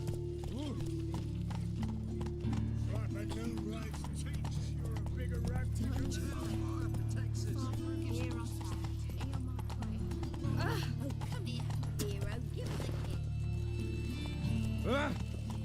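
Horse hooves clip-clop in a steady rhythm as Roach moves through The Witcher 3 game world, with occasional snorts and someone speaking over the hoofbeats.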